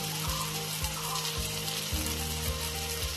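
Ginger paste and spices frying in hot oil for a tilapia fish curry, a dense continuous sizzle close by with a low repeating hum underneath and no talking.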